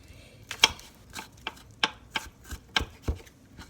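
Knife chopping garlic on a cutting board, about a dozen crisp irregular taps spaced a fraction of a second apart, close and fairly quiet with no talking.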